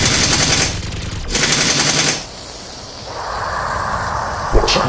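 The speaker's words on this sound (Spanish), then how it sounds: "¡Disparad a la criatura!" Loud, sustained rapid gunfire from battle brothers shooting at a Tyranid creature, dense bursts that break off and give way to a hissing roar, with a sharp impact near the end.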